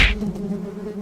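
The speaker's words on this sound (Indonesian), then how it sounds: "Adip disengat tawon, Bu" Wasps buzzing around a nest in an animated first-aid explainer about wasp stings, a steady droning hum that holds throughout, opening with a brief brighter burst before settling into a continuous buzz.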